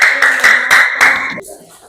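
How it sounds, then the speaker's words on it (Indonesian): A classroom of students claps for a student group, four or five loud, close, rhythmic claps in quick succession, with a voice running through them before the clapping stops. "tepuk tangan buat kelas kelompok 3"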